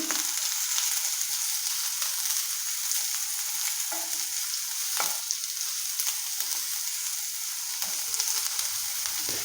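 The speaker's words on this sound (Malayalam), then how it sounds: "ഇതൊന്ന് ചെറുതായിട്ടൊന്ന് വഴറ്റുക" Onions are sautéed in a hot pan for a Kerala okra stir-fry, giving a steady, bright sizzle and frying crackle that runs on evenly, broken by a few brief stirring scrapes.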